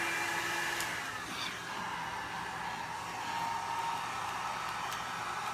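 A hair dryer blowing steadily to dry alcohol ink on a vase, a constant close whirring hiss lasting throughout with no talking.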